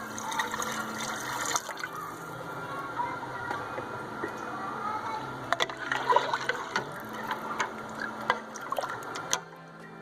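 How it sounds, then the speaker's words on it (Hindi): Four large glasses of water poured into a pot for mutton paya, a gurgling, splashing stream in several pours with brief clinks of a glass, close up. "बड़े साइज़ के 4 ग्लास पानी इसमें ऐड करेंगे हम।"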